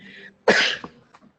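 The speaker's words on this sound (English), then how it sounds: "Nothing like hearing a loud cough over a microphone" A single loud, harsh cough bursts out close to the microphone, followed by a brief throaty rasp before quiet.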